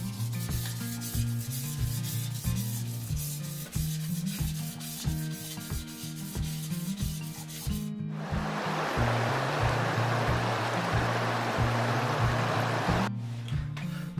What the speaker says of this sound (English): you're just going to hand sand it and get the rod a little bit scratched up